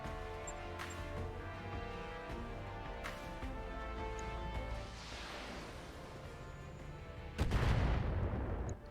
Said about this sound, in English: Look at their turret shooting from that far away.